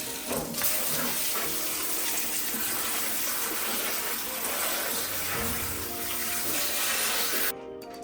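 Cold tap water gushes steadily over shrimp in a strainer, a continuous close splashing rush that holds for most of the stretch before cutting off near the end.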